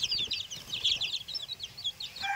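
Crowded brooder of chickens and chicks on a backyard farm, a dense, continuous chorus of high peeping and chirping with occasional low clucks, steady and close throughout.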